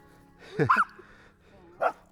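A dog gives two short barks or yips a second apart, fairly close, with quiet room noise between them.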